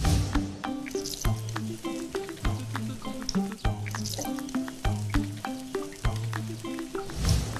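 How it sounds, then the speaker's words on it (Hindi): Stuffed puri frying in hot oil, a close bubbling sizzle with a repeated rhythmic thudding and tapping running through it, steady and fairly loud throughout. "तेल लगा के, फिर गर्मा गर्म तेल में"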